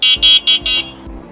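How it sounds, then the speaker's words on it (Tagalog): The loud electronic horn of a vBike Ouxi V8s 48V fat-tire electric bike beeps four times in quick succession, shrill and piercing, then stops, leaving a low hum. "At napakalakas ng horn yan."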